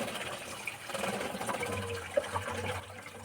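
Water trickles and gurgles out of a car's rocker panel drain holes, a faint, uneven splashing flow with small bubbling pops.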